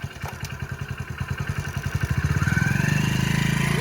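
A brand-new motorcycle engine chugs in a steady, close putter of rapid pulses, then picks up pace and rises into a smoother, louder rev toward the end.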